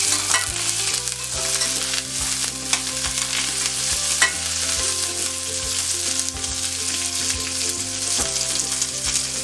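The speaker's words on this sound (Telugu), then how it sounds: "ఆనియన్ వేసుకోవాలి. కొద్దిగా కరివేపాకు వేసుకోవాలి." Onion and curry leaves sizzle loudly and continuously in hot oil while being stirred for a coconut chutney tempering, with background music playing underneath throughout.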